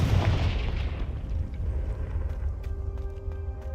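A Confringo explosion spell in Hogwarts Legacy goes off as one deep, booming blast. Its rumble slowly fades into a low ambient hum with a faint tonal drone.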